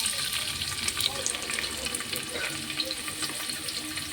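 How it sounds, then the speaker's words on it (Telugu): Onions and tomatoes sizzle steadily in hot oil for a brinjal mutton curry, a continuous bright crackle throughout with no speech. "ఉల్లిపాయలు, టమాటాలు బాగా ఫ్రై చేసేసుకుందాం."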